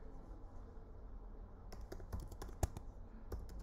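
Computer keyboard typing while logging into a Keycloak server, a quiet room tone followed by a burst of close, crisp key clicks in uneven rhythm.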